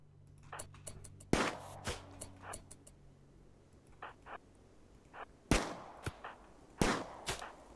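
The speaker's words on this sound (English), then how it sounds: "She is so bad at shooting, it's comical." Gunshots in the RimWorld video game during an extreme desert challenge fight, a scatter of sharp single shots and short bursts at irregular intervals, with louder reports near 1.3, 5.5 and 6.8 seconds.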